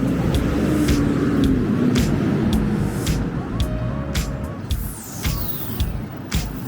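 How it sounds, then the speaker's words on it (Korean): Steady road traffic beside the Cheonggyecheon stream in Seoul, a continuous low rumble of passing cars with a vehicle swelling and fading, loud and constant in the background. "차 소리가 시끄러워서"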